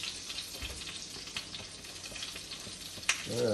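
Soft, steady sizzle of a three-egg cheese omelette heating in a pan, a low crackling hiss with occasional faint pops and a sharper clink near the end as a voice begins.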